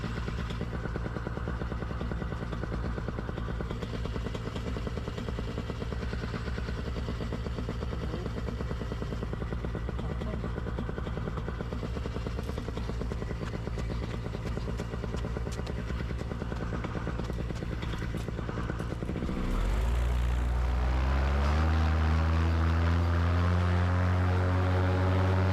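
A powered paraglider engine drones steadily through a forward launch takeoff on slightly uphill ground, then revs sharply louder and rises in pitch near the end as the wing lifts off.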